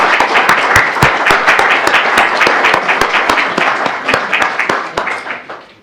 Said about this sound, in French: je voudrais vous demander de l'applaudir